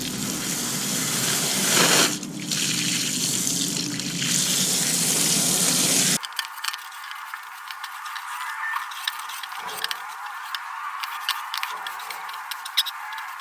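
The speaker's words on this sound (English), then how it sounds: "We'll see once we rinse and wipe it off if it'll take all that grime on there." Water gushes from a hose or tap to rinse foam and caked-on grime from a cookout grill. A loud, steady rush is heard first, then a thinner, patchier spray with small splashes.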